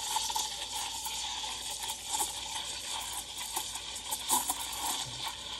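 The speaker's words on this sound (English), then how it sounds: "And you can hear the air being sucked inside intermittently." A coffee machine steam wand froths milk in a pitcher, a faint hissing bubble with intermittent sucking gurgles and small clicks as air is drawn in.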